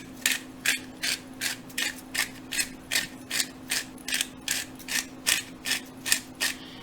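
A hand pepper grinder cranks over a tortilla egg mixture with about fifteen evenly spaced, crisp ratcheting crunches that repeat steadily up close over a faint hum.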